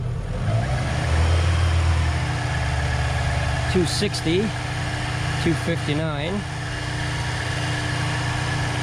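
A car engine runs at a steady idle throughout, close and continuous, with a short rise in revs partway through; someone speaks numbers over it.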